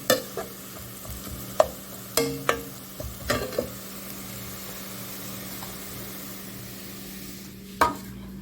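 Ginger, green chilli and peanuts fry with onions in a pan, giving a steady low sizzle broken by a few sharp clinks and scrapes of stirring.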